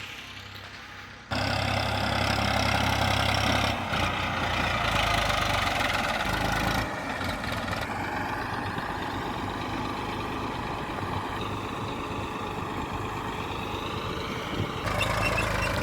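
A tractor engine runs steadily in a farm field during land levelling, a loud continuous low rumble that starts abruptly after a quiet moment and holds for the rest of the stretch.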